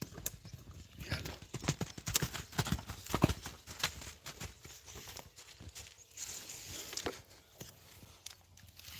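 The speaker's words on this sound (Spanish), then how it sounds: "Se ha asustado el caballo." A frightened horse's hooves clatter in quick, irregular clip-clops, close and fairly loud, with an occasional snort or whinny mixed into the scuffling steps.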